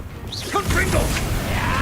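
Confringo fire-blast spell cast in Hogwarts Legacy on PS5: a quick whooshing burst with a crackling, smashing impact, heard close under a voice.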